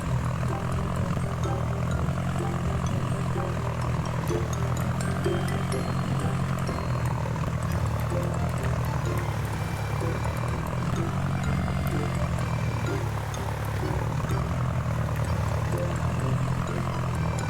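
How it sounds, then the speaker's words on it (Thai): A continuous low, droning tractor engine roar from a Ford 7610 in Farming Simulator 19, with a rough, throbbing exhaust tone, steady and loud throughout. "เสียงท่อที่โหดจัดเลยนะ"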